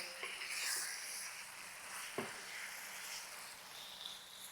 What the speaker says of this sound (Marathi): सर्व फोडणीत आपल्याला हे चिकन व्यवस्थित असं परतवून घ्यायचं आहे